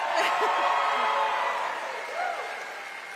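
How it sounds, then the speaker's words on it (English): Crowd at a campaign rally in Tucson, Arizona, a loud mix of clapping, cheering and laughter that gradually fades with brief vocal whoops. "Can I get a clap?"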